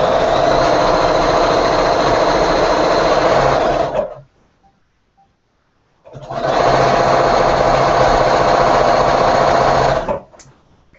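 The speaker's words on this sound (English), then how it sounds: "just sew around the edge" Sewing machine stitching around the edge of a quilt block, a steady loud whirring run of about four seconds, a pause of near silence, then a second equally long run that stops abruptly.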